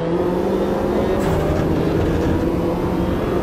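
Mini Cooper race cars in a VR racing game at Oulton Park, a steady, loud engine drone with a constant hum and no pauses, running through the whole stretch.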